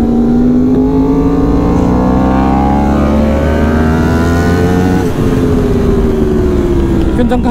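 Yamaha R1M motorcycle racing at the Mandalika circuit, its engine screaming loud and sustained at high revs with pitch sweeps through gear changes, heard from on board in wind rush.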